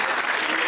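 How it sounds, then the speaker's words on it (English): Loud, dense audience applause at a rally championship launch event, a brief close burst of many hands clapping at once. "Can we give them a round of applause?"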